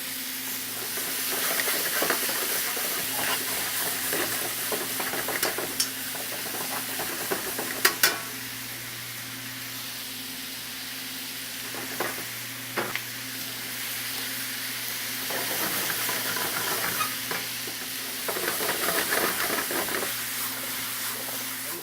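Lamb and root vegetables sizzle steadily while roasting in a pan, a continuous bright hiss of frying with occasional sharp clicks and stirring scrapes, close and even throughout with a low kitchen hum underneath.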